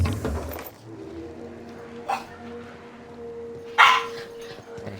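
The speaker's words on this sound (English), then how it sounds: "Sorry for the racket in the background. My dogs are just a bit mental." Pet dogs barking in a home, a few sharp barks and yips rising over a low steady hum, with pauses between them.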